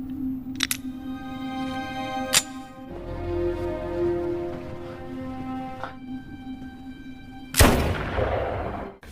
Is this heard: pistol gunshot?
yes